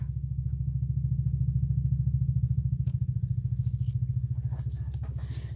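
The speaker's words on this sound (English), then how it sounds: "Motorcycle, maybe? Yep." A motorcycle engine outside, heard as a steady, fairly loud low-pitched pulsing rumble that holds throughout, with faint higher background noises but no talk.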